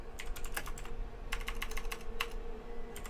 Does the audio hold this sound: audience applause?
no